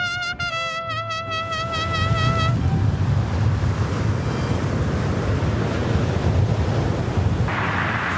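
Steady roar of surf and crashing waves on the beach in Cancun, Mexico, with gusty wind buffeting the microphone, continuous and loud after a brief musical tone at the start.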